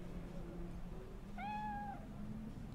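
In Cyberpunk 2077, a cat lets out a single clear, drawn-out meow over a low, steady in-game background hum, preceded by soft faint tonal sounds.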